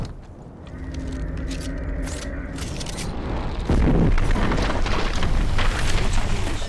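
Grenade blast in Apex Legends gameplay, a heavy rumbling boom kicking in partway through and sustaining over a dense layer of in-game noise and faint voice lines.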